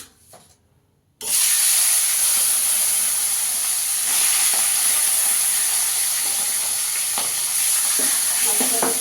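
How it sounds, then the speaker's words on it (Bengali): Loud, steady sizzling and hissing of tangra fish frying in hot oil in a kadai, starting abruptly after a brief quiet moment and continuing with crackles throughout. "তেলটা গরম হয়ে গেছে। মাছগুলোকে ভেজে নেবো আগে।"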